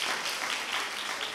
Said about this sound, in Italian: facciamo un applauso a questa